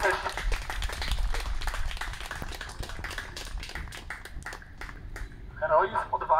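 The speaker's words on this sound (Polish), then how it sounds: "I proszę wszystkich tu o wielkie brawa dla tych wszystkich osób." An audience at a Warsaw Uprising anniversary commemoration in Przeworsk claps steadily, a dense patter of many hands under a speaker's amplified voice, swelling louder near the end.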